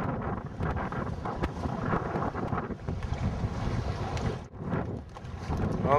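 Wind-driven water and boat noise during rowing on Chesapeake Bay, a broad steady rush of gusting wind buffeting the microphone with sloshing waves, loud and continuous with no talking.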